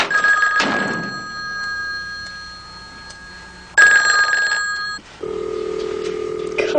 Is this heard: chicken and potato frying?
no